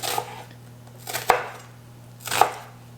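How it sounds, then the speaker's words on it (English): Half a sweet yellow onion is chopped with a knife on a board. Three crisp, separate chops land about a second apart, close and clear against a quiet room. "I'm getting started by chopping up a half of a yellow onion."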